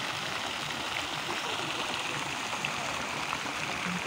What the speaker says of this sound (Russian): Вот фонтан решили все-таки оставить.